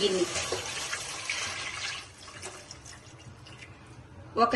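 Water gushes into a pot for basmati rice biryani, a loud, close rushing pour that gradually softens and thins out, with a voice talking faintly alongside.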